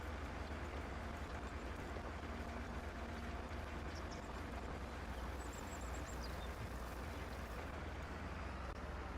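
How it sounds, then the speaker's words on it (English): A tractor engine runs steadily with a muffled, low rumble while a cultivator is lowered during spring tillage, a continuous dense drone with no breaks. "If you listen to the tractor almost has a muffled sound to it."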